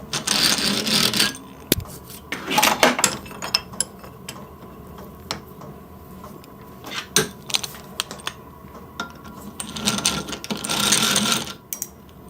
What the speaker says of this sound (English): The Doubleboost hand drill.